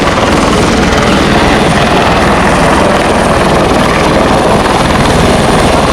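Loud, continuous roar of a Blue Hawaiian tour helicopter nearby on the Big Island, Hawaii, the rotor and engine noise steady and filling the whole stretch.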